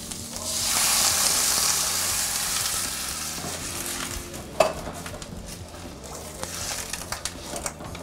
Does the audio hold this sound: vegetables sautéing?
yes